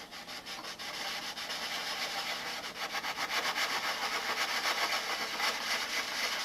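Steady, rhythmic rubbing of sandpaper over hard balsa wood coated with several coats of dope, close and fairly loud, continuing for several seconds with no talking.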